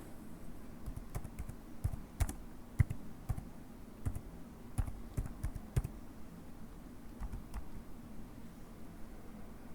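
Close, quiet typing on a computer keyboard as a Jira project name is entered, an uneven run of crisp key clicks with short pauses, with no talk over it.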